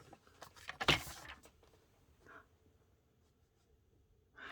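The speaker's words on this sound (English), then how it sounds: "I'm bringing in my cutter." A paper cutter slices through card stock while a birthday card is being made, one loud scraping swipe near the start and softer rustles and handling sounds afterward, close and quiet with no talk.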